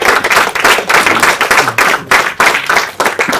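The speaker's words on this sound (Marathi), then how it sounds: "त्यामुळे फटमार कंपनीसाठी एकदा जोरदार टाळ्या होऊन जातात." An audience at a Marathi film trailer launch claps loudly and vigorously in a rhythmic burst, dense hand claps close by with brief pulsing swells.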